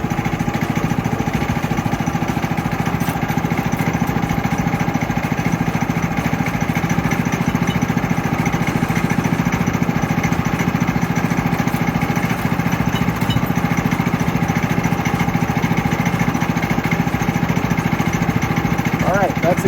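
The engine of a Woodland Mills HM130max bandsaw mill runs as it works on a giant log, giving a loud, steady mechanical drone with a constant buzz that never lets up.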